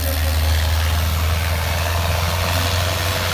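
A Preet 6049 tractor engine idling at a tractor pulling contest in Ludhiana: a steady, low diesel rumble with an even throb, close and continuous, nothing else heard.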